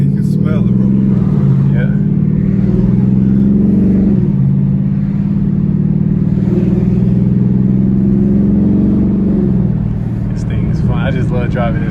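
A widebody Dodge Charger Scat Pack revs its engine, a loud continuous mid-range roar with rising and falling pitch throughout, heard from inside the car while people talk over it.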